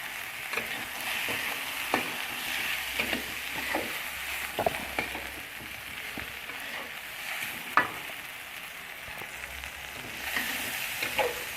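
Bay leaves and lime leaves fry in hot oil in a pan for a home-style egg dish, with a steady close sizzle broken by occasional stirring scrapes.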